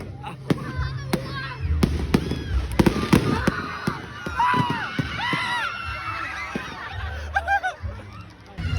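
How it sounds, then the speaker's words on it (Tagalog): New Year fireworks going off during a celebration, with sharp bangs and crackles scattered through a noisy outdoor scene; a goose-like honking call and people talking and shouting run throughout. "Wow, fireworks!"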